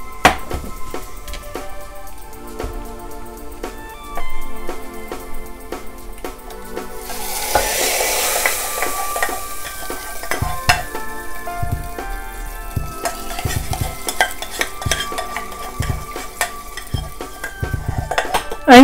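Hot tempering of fried onion and curry leaves poured into a coconut-milk chicken curry gives a loud burst of sizzling around the middle, then settles into stirring clinks and steady frying crackle close up.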